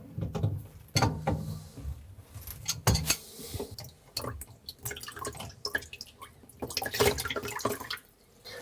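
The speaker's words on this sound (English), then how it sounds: "Now I just want to take the drain plug off here." Water draining and dripping from the drain plug of a Frigidaire food waste disposer under a kitchen sink, with irregular close drips and trickles amid faint handling clatter.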